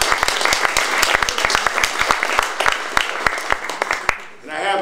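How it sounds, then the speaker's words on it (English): Live audience applause at a talk about Vietnam War protests, a dense wash of many hands clapping with sharp individual claps standing out, loud and close, fading out at the very end. "So give yourselves a little round of applause."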